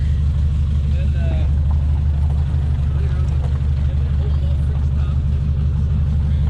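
A 1969 Opel GT with an automatic transmission and custom exhaust idles, giving a steady, close low rumble that holds evenly with no revving.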